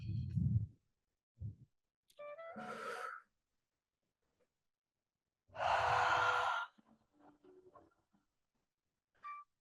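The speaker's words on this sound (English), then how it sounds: "Take 2 more breaths." Deep, audible breaths during a yoga core session, with slow inhales and sighing exhales in separate bursts and long quiet gaps between them.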